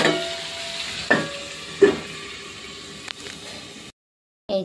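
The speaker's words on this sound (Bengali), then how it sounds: "তো চলো ভালো করে একটু কষিয়ে নিই এখন।" Meat curry sautéing in a pan, a soft sizzle broken by a few distinct stirring scrapes, then a short silence before the frying resumes.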